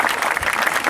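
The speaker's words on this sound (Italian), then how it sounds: "applauso" Brief burst of audience applause at an outdoor summer variety show in Cerveteri, dense clapping from a crowd, steady and fairly loud throughout.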